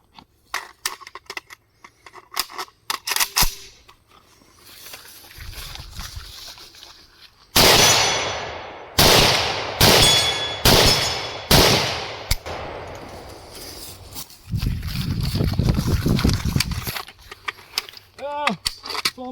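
Gunshots fired at a shooting range while working with a budget Chicom chest rig: a burst of sharp, loud, close cracks in quick succession, with scattered handling clatter before and a rumbling stretch after.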